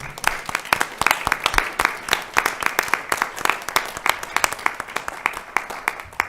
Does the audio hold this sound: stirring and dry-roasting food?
no